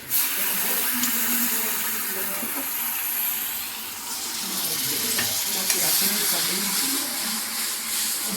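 Ginger-garlic paste fries in butter with a loud, continuous sizzle and hiss up close, steady throughout with a few stirring scrapes.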